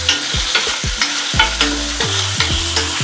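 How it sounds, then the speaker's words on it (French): Chunks of sulphur shelf mushroom fry with pressed garlic in a pan, a steady loud sizzle broken by repeated scraping stirs of a utensil, with no voices. "J'envoie mes bouts de champignons. Et donc on les fait bien cuire."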